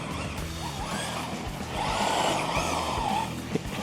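A brushless 1/10-scale ready-to-run RC basher driving on loose dirt, its electric motor whining and rising in pitch as the tires scrabble and skid, ending in a brief thump.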